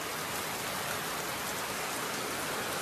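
Heavy rain pours down at night during a motorcycle ride, a dense, even hiss of falling water with no breaks, close and steady.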